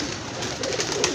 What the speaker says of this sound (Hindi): कबूतर हैं ये।